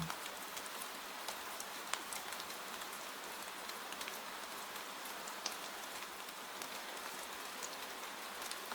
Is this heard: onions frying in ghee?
no